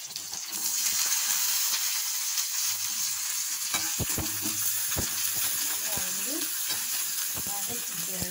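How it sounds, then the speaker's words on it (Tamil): Chillies sautéing in oil give a continuous loud sizzle throughout, with occasional scrapes and knocks of a spatula stirring the pan. "நல்லா வதக்கிக்கிறணும்"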